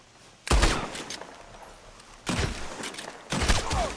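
Gunfire in the Red Dead Redemption 2 video game: three loud, sharp blasts spaced about a second apart, each trailing off in a rumbling echo over a quiet background.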